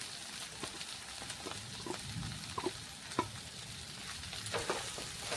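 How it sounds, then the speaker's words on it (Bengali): Mashed pointed gourd and mashed shrimp stirred in a pan for potol bhorta, a soft continuous sizzle with light scraping strokes of the spoon at close range. "এখন আমি ম্যাশ করা চিংড়ি মাছটা এর সঙ্গে দিয়ে দিচ্ছি, দিয়ে একটু হালকা নেড়ে চেড়ে নেব।"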